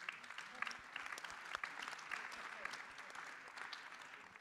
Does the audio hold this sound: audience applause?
yes